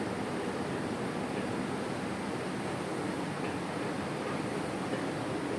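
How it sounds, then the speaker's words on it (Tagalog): Heavy rain pouring outdoors in Hong Kong, a dense, loud, unbroken roar of downpour with no distinct drops or pauses, heard alone without voices. "Sobrang lakas ng ulan guys."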